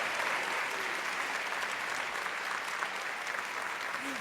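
Even, continuous applause from a church congregation during a sermon, a soft wash of many hands clapping at a moderate distance, steady throughout.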